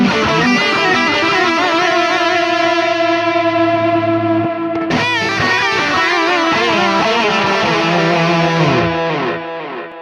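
Heavily distorted electric guitar through a Neural DSP Mesa Boogie Mark IIC+ amp plugin rings out in loud sustained chords, with a delay trimmed by low and high cut trailing softly behind; a second phrase is struck midway.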